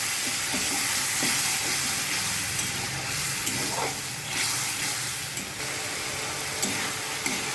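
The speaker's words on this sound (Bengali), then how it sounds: "অল্প জল দিয়ে মশলাটা ভালো করে কষিয়ে নেব।" Spice paste for a Bengali shankar (stingray) fish curry sizzles steadily in a pan with a little water while being stirred, a dense continuous hiss with soft scraping strokes throughout and no voices.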